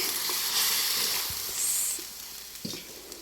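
Water hits a hot pan on a wood-fired chulha stove with a steady, close sizzling hiss that rises and then slowly fades, with a few soft knocks in the background.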